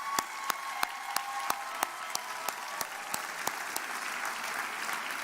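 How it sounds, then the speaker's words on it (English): A crowd claps at a university commencement ceremony, a dense wash of applause with a few sharp, evenly spaced individual claps standing out near the front. "Let's give Ms. Searchwell another round of applause."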